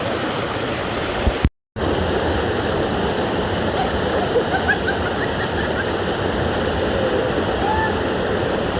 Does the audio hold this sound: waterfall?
yes